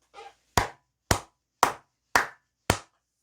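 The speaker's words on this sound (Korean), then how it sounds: "크게 박수 한번 치고 가도록 하겠습니다" One person claps hands five times at an even, unhurried pace, each clap sharp and close, alone with no talk.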